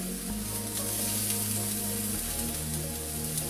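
Red onion and zucchini sizzling in a hot pan, a close, steady frying hiss with a low sustained hum beneath, no talking.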